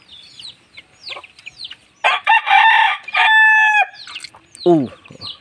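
Broiler chickens on a farm, with scattered nearby clucks followed by a loud, drawn-out crow and further calls, all close and clear.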